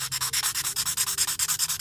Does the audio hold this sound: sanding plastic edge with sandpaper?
yes